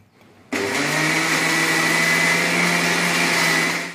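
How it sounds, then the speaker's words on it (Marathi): A mixer grinder starts abruptly after a brief quiet moment and runs as a loud, steady high-pitched whir grinding masala for a sardine curry, close and continuous with no talking. "आता वाटूया"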